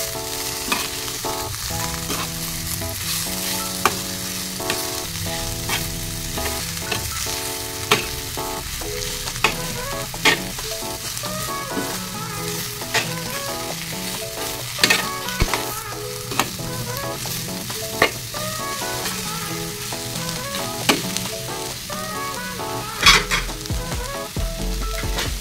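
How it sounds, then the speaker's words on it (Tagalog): Jackfruit with aromatics and other ingredients sautéing in a pan for ginataang langka, a steady close sizzle broken by repeated sharp clinks and scrapes of a spatula stirring against the pan. "Gisa-gisa muna natin guys, takipan muna natin saglit"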